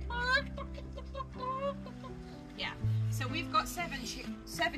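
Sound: chicks clucking

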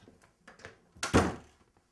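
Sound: door being closed

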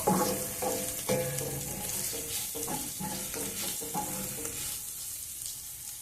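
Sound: cauliflower cooking in oil

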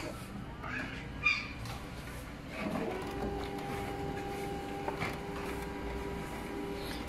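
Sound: printer printing on laser transfer paper

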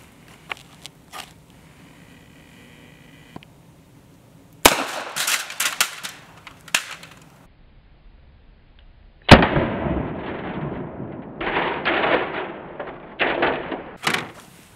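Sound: rifle shot fired into a stack of license plates

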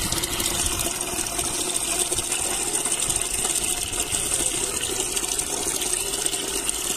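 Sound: clean water poured onto fermented tomato seeds

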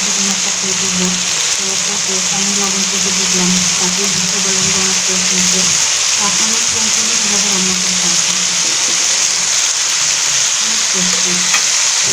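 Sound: vegetable bhaji with banana frying in a pan

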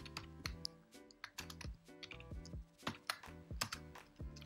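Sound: typing code on a computer keyboard

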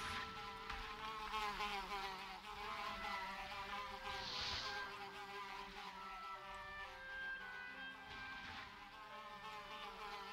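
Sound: buzzing bees or bugs, video game

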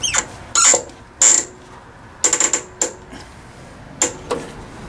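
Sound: ratchet tightening down a connection

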